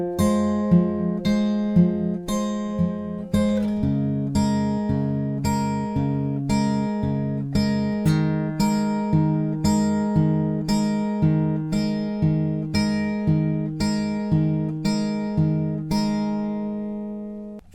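Guitar fingerpicks the pre-chorus pattern of a song, a steady repeating arpeggio of clear plucked notes, close and evenly paced, with each chord ringing and decaying before the next pluck.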